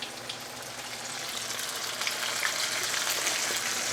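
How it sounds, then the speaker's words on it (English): Fish laid into hot grease in a large cast iron pan for a fried fish sandwich, giving a loud, steady crackling sizzle that swells slightly and runs unbroken with no voices. "We've got our grease up to temperature. We want to just lay it in the pan, just like this."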